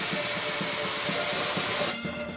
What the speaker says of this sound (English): I spray the top of the entire engine while the carburetor is off to clean the oil and dirt.